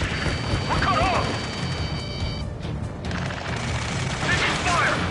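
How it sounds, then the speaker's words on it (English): Video game battle gunfire with crashing impacts and heavy shots throughout, loud and busy, under shouted in-game radio voices and a brief quieter gap midway. "Taking fire! We're pinned down! Shoot back!"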